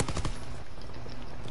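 PPSh submachine gun firing in a World War II video game: a short rapid burst of shots at the start, then a lingering noisy tail with faint game sounds.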